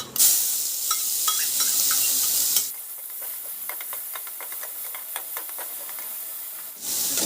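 Pea stuffing masala with a pinch of asafoetida frying in hot oil over medium heat, a loud hiss and sizzle at first that drops to a softer crackle with scattered stirring taps, then flares up again at the end.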